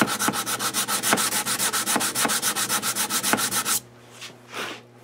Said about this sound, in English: I'm just going to take some 80 grit sandpaper on a sanding block.